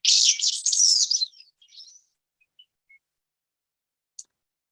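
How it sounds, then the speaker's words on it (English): A Bicknell's thrush gives a single burst of high, thin, fluting song with rapid warbling notes. The song fades into a few faint trailing notes, and one brief high chip sounds afterward against silence. "It is a Bicknell's thrush."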